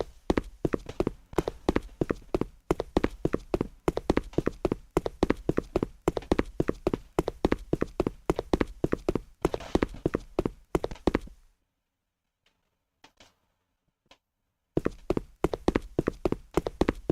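Rapid, evenly paced footsteps from a Unity 3D multiplayer horror game, a crisp hoof-like clopping that runs continuously, stops for a few seconds of near silence with a couple of faint ticks, then resumes.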